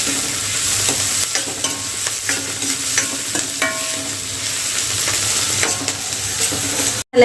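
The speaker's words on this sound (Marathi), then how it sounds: "कांदा जो आहे तो चांगला असा ब्राऊन कलरचा होईपर्यंत आपल्याला चांगला तेलामध्ये फ्राय करून घ्यायचा आहे" Onion frying in oil until browned, a dense continuous sizzle with frequent close scraping strokes of a spoon stirring through the pan, loud and steady with no talking.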